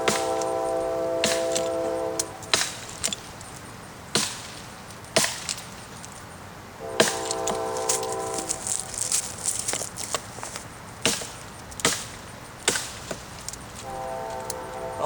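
A light Gibson axe bites repeatedly into green peach tree wood outdoors, sharp woody chops landing at irregular intervals, close and loud, with a low rumbling train-like drone swelling in the background at times.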